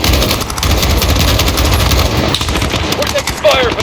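Loud, rapid automatic gunfire rattles almost continuously in the video game Call of Duty Modern Warfare, dense bursts overlapping with no pauses.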